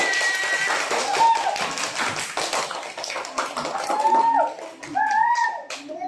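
Students in a classroom clap for everyone in a quick burst of scattered hand claps, with children's voices and chatter mixed in throughout.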